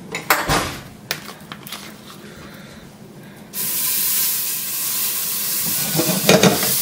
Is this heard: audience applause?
no